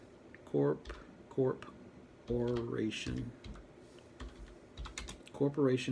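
Keys clatter on a computer keyboard in short bursts of typing, with quiet pauses between the runs of clicks and a voice speaking over parts of it.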